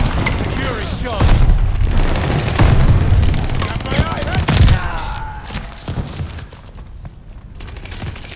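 Call of Duty Vanguard combat: loud, close bursts of rapid gunfire and heavy booms from a grenade blast crowd the mix, and players talk over the fighting.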